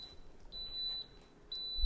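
Waffle iron signalling with three thin, high electronic beeps at a steady pace over faint background hiss, close and moderately quiet.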